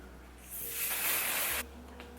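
A steady hiss of a spray bottle misting for about a second, close and fairly loud, then cutting off sharply.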